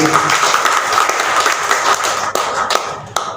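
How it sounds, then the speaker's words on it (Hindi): Loud audience applause welcoming a speaker at a gathering, dense clapping that fills most of the clip, then thins into a few scattered late claps as it dies away. "जोरदार तालियों से इस्तकबाल कीजिए"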